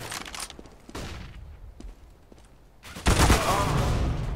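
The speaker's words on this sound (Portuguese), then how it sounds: "Throwing flashbang." Bursts of gunfire and a flashbang go off in a Counter-Strike: Global Offensive competitive match, with sharp clustered shots early, a quiet stretch with isolated pops, then a loud sustained blast and firing near the end.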